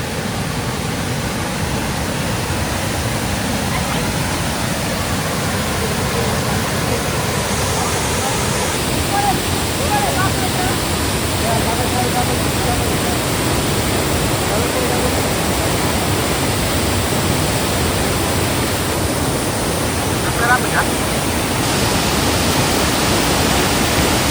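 A loud, constant roar of rushing water, like a powerful waterfall close by, steady and unbroken throughout.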